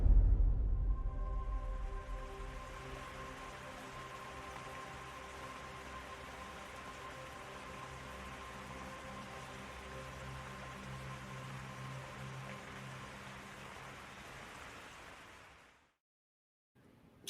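Steady rain falling for about fifteen seconds, a continuous even hiss with a low rumble, fading out near the end; no talking.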